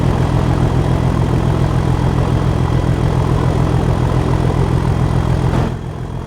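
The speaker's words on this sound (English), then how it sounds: "As we open the throttle on this 37." A Class 37 diesel locomotive in a train simulator game opens up under throttle, its engine a loud, steady low drone with a rhythmic throb that carries on unbroken, then eases off slightly near the end.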